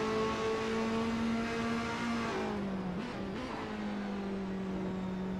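A Ferrari race car engine in a racing video game, heard onboard while chasing a BMW through the Schumacher S, gives a steady, loud drone that dips and rises again as it shifts gears midway.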